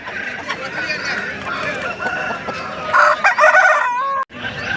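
A rooster crows loudly and close by at a hen market, a long drawn-out call with other fowl clucking faintly around it.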